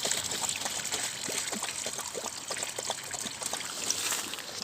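Water trickling and dribbling as it is poured out at home, a steady continuous splashing stream with small droplet patter, close and moderately loud, with no talking over it.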